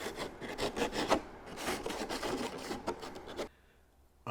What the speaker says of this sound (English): Take a sanding block and sand the edges.